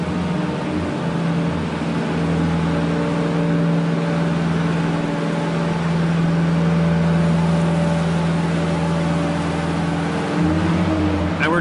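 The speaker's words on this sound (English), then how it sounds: "So we're going to start the engine back up. We're going to boom the machine just above horizontal." Diesel engine of a boom lift idling steadily at close range, a constant low rumble with a slight rise near the end as the boom is raised during a pre-use check.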